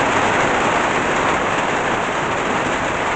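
Heavy rain pouring down around midday, a dense, continuous hiss of water close by, loud and unbroken with no voices.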